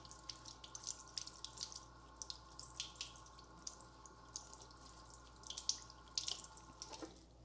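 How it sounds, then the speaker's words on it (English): A sweet potato is washed under a running kitchen tap, with a soft steady stream and irregular splashes and drips as it is rubbed and turned, quiet and close. "right here, a sweet potato. Just gonna wash it off a little bit."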